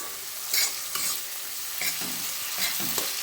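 Curry masala being stir-fried in a pan before potatoes go in, for a Bengali lentil-dumpling curry: a steady close sizzle with several scraping stirs of the spatula, no talking.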